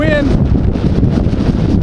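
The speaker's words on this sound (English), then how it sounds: "wind is really hitting hard right now. You got major gusts happening right here" Hurricane Katrina's strong wind buffets the microphone in a loud, continuous roar with gusty surges throughout.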